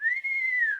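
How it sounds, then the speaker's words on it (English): Tuneful human whistling, a single sustained, slightly rising then falling note held for under a second, close and clear with nothing else around it. "Sputnik whistled."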